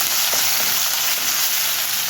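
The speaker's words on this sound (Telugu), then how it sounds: "ఇందులో కొంచెం టమాటా ప్యూరీ వేసుకొని మగ్గబెట్టుకుందాం." Tomato puree hisses and sizzles in a hot pan with a loud, even, continuous frying noise and no voices.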